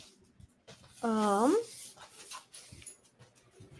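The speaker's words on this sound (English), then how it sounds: "Let me take my dogs out here." Dogs give a single loud whimpering whine with a rising then falling pitch, lasting about half a second, close by amid soft indoor background noise and light movement.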